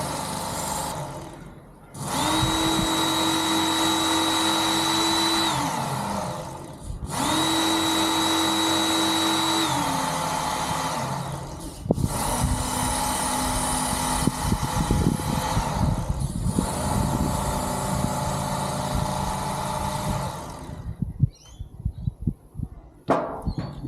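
A belt sander grinds a fishing fillet knife through successive grits, its motor whining in long steady passes that stop and restart with brief gaps between them, loud and close, before sputtering out near the end.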